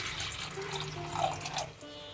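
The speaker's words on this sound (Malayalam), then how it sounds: "വെള്ളം ഒഴിച്ചു കൊടുക്കാം" Water pouring and splashing into a vessel of cowpeas being cleaned, a short gurgling stream at moderate volume with faint background hum.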